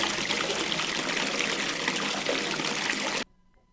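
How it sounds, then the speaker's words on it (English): Shower water spews hard from a showerhead in a horror video game, a loud, steady hissing rush that runs for about three seconds and then cuts off abruptly. "What should have been a calm chatter rumble of water was now an obnoxious spew as if it was coming from a garden hose."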